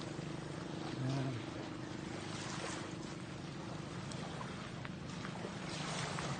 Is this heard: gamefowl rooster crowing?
no